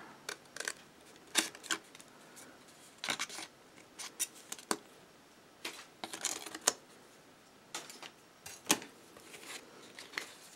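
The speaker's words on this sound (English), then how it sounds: "So I'm gonna cut here. I'm gonna cut there." Scissors snip through cardstock while shaping a bag topper, a series of short crisp cuts in uneven bursts, close and alone with no talking.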